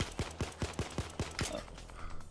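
Sniper gunfire in the VR shooter Payday 2 comes as a rapid run of six or seven evenly spaced shots, each a short punchy crack, followed by softer scattered noise.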